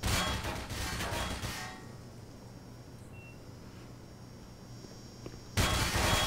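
A grenade blows up in the game Black Mesa. A loud, roaring burst fades into a quieter rumbling tail, then a second sharp blast strikes near the end.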